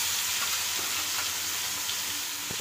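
Pieces of a large fish, about three kilos, fry in a pan with a soft, continuous sizzle and hiss. The sound is quiet, steady and unbroken, with no talking.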